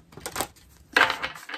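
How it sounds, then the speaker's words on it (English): A tarot card deck being shuffled by hand, two short bursts of riffling card noise close up, separated by a brief pause. "well, one last shuffle"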